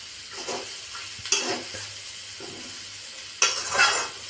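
Onions fry in oil for dal fry, giving a quiet, soft sizzle broken by two brief bursts of a spoon scraping and stirring the pan.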